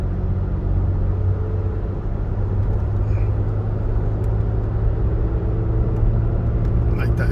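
Engine of a 3rd-generation Toyota Tacoma TRD with 187K miles climbing a hill in fourth gear, a steady low in-cabin drone and road rumble running throughout, with someone talking faintly over it.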